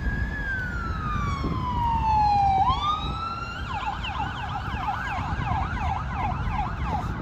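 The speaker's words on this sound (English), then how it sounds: "ambulance." An ambulance siren sounds up close in Southaven, Mississippi. A long falling wail gives way to a rapid, repeating yelp over the rumble of traffic.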